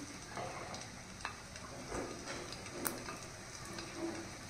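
Steady sizzling of ten to twelve garlic cloves frying in hot oil for palak paneer, with occasional soft pops and faint stirring clicks, close and continuous.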